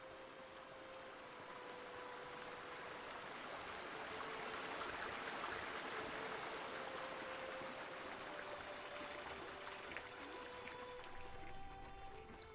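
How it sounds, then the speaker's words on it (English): A waterfall in the video game Eastshade rushes as a steady, soft wash of falling water, faint and unbroken throughout with no voices over it. "I like those waterfalls over there."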